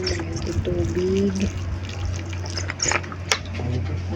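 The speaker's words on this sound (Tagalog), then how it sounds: "Ayan, lagyan tubig." Water trickles and pours onto newly planted eggplant in a home vegetable garden, a soft splashing stream that comes and goes, with a voice speaking over part of it.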